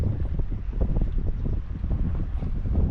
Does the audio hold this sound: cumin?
no